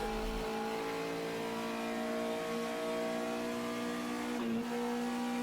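A Brazilian touring race car in the Reiza Brazilian Touring Car Classics sim holds a steady, loud engine drone, then briefly dips in pitch as a gear shift breaks the tone near the end.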